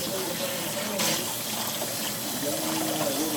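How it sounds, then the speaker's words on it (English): Lukewarm water running steadily from a tap while hair is being washed, a continuous close hiss and splash with no pauses. "This is lukewarm water."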